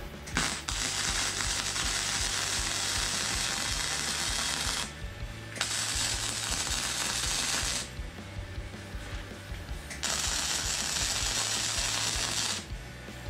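Unimig Viper 120 gasless flux-core MIG welder running a bead in a home setup: three long, loud crackling, buzzing bursts up close, separated by brief pauses.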